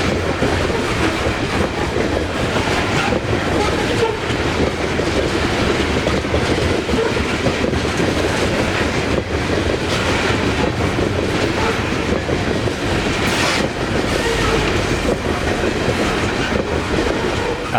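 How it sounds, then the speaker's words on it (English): A train passes close by in Taft, British Columbia, its railcars rumbling and clattering over the rails in a continuous loud roar, with rhythmic clickety-clack and a brief squeal near the end and no talking. "And with the train noise, I couldn't hear it."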